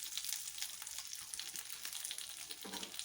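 Grated coconut fries over a low flame for a Chettinadu chicken gravy, giving a soft, even sizzle with faint crackle throughout and no voices.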